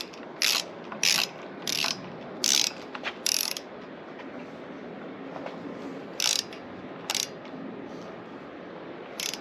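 Ratcheting clicks in short bursts from a ball head driver tightening screws on a batwing fairing for a Honda Rebel 1100 motorcycle, close and crisp, with pauses between strokes over a low background hum.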